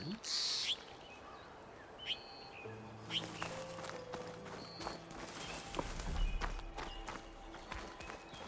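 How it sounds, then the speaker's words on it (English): Background birdsong in the video game Horizon Forbidden West, with scattered faint chirps and calls over a low ambient bed while hoof-like clip-clops and footsteps move through the scene. "Small details like those birds and background noise with the birds"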